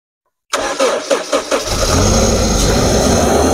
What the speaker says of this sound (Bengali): গাড়িটা এক টোকাতে স্টার্ট হয়ে গেল।